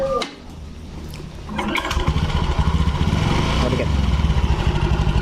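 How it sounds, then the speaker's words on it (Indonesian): A motorcycle engine is started after a brief crank and settles into a loud, steady, rapid idle putter close by, with no voices over it. "alangkah baiknya kita nyalakan dulu motornya"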